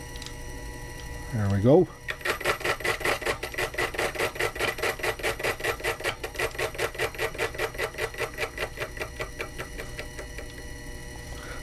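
A Proxxon FF230 benchtop milling machine makes a cutting pass while machining vise hold-downs, after a short pitch sweep as the spindle spins up. It then gives a steady rapid chattering whir, with a brief spoken remark at the start.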